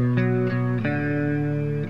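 Distorted electric guitar playing a sustained chord riff, the effect-laden tone ringing continuously and loudly with a couple of note changes across two seconds.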